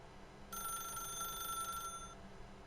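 An in-game telephone in The Stanley Parable rings once with a bright electronic trill lasting over a second, clear against a quiet background hum.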